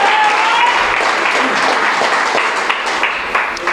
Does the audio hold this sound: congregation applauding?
yes